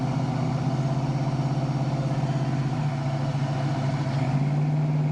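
A 1972 Dodge Challenger engine rumbles steadily while driving, a low, constant drone with a slight shift in pitch partway through. No one speaks.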